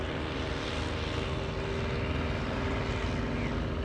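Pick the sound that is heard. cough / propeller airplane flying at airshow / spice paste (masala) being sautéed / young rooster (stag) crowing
propeller airplane flying at airshow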